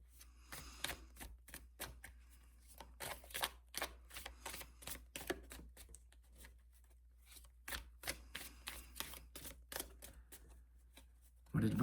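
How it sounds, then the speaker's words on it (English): Tarot cards being shuffled close up, a run of crisp riffling and snapping bursts with brief pauses between, fairly quiet, ending in a louder clatter. "That was a bad shuffle."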